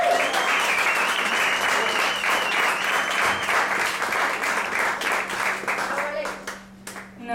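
Audience applause for the drummer at a live music performance at Cauz, a steady wash of clapping held at even loudness for several seconds before thinning toward the end.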